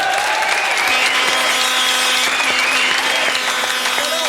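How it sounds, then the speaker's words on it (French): A TV studio audience applauds in a dense, steady wash of clapping that holds at full loudness, with faint tones running underneath. "Je propose qu'on l'applaudisse."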